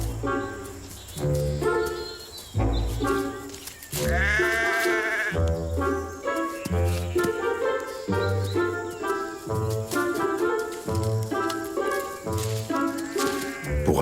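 Sheep in an orchard bleat repeatedly, several wavering calls that overlap and follow one another at close range with no talk.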